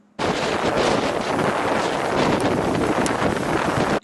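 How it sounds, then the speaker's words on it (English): Strong wind buffets the microphone on an exposed sea coast, a loud steady roar with gusty rustling that starts abruptly and holds without a break for several seconds. "just listen to the force of the wind here for a few seconds"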